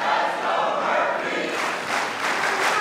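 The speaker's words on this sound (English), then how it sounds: "you got a crowd that got reawakened after losing 3 straight matches" A sold-out college wrestling arena crowd roars and cheers continuously at Cliff Keen Arena on senior day, a steady dense wash of voices with swelling peaks.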